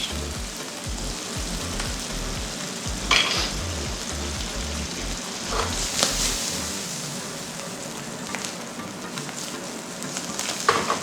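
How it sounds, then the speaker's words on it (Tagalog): Mushroom and bacon sizzle steadily in a pan, close and fairly loud, with occasional sharper crackles and stirring scrapes throughout. "while we're waiting for the mushroom and bacon to cook"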